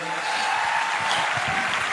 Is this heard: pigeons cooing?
no